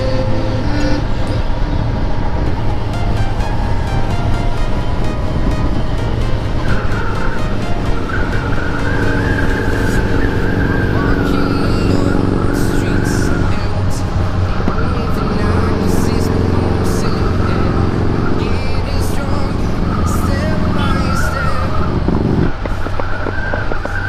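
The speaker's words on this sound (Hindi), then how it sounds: "अर्चित भैया की बाइक काफ़ी पटाखा मार रही है भाई" A motorcycle on a group night ride backfires, sending out several sharp firecracker-like pops over loud engine and road noise, with voices nearby.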